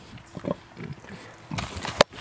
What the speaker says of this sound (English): Now that the pigs are awake,